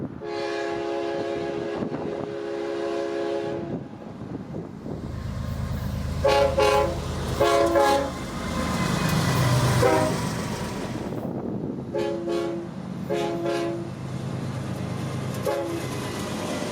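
An extra southbound freight train passing through Dade City, Florida, sounds its horn in several long blasts and shorter repeated toots, over the steady rumble and rattle of rolling railcars close by.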